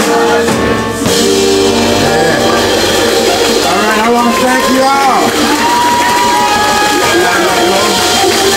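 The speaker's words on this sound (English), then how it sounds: "Applause for the band." A loud crowd at a music store in-store show during New Orleans Jazz Fest cheers and whoops continuously for a band, with music playing underneath, the roar sustained throughout.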